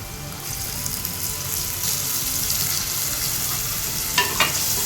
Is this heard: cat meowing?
no